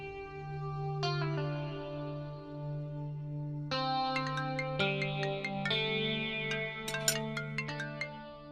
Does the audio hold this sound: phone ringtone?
yes